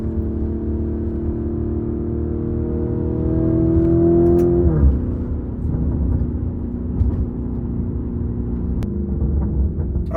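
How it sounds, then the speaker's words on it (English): Steady engine rumble from a 2020 Lamborghini Urus on the road, with a rising tone that climbs then drops sharply as it shifts, settling into an even, continuous drone close inside the cabin. "my impressions of driving this Lamborghini Urus"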